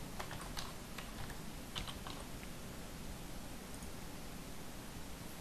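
Computer keyboard typing while a tweet is composed, soft scattered keystrokes in short bursts over a steady background hiss, faint and close, with no talk.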